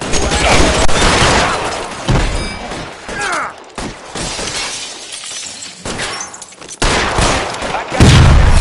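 Gunfire rings out in the video game L.A. Noire in loud bursts of shots with breaking glass, dense and chaotic, with a short pause before the shots start again.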